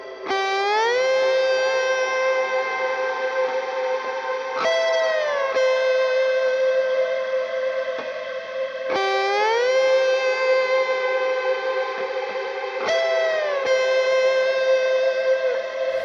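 An electric guitar played with a small glass slide through an ambient effect, with notes sliding up into long sustained tones, each phrase starting with a sharp attack and swelling with reverb, repeated several times with no talk.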